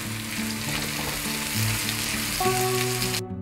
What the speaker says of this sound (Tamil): இதை சேர்த்து இந்த வெங்காயம் வந்து நல்லா வதங்கட்டும்